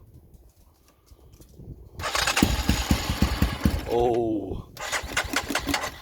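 A barn-find Triumph VX 250 Vixen motorcycle on choke cranks and catches, then settles into a rattly idle with short throttle blips, close by, while someone speaks briefly.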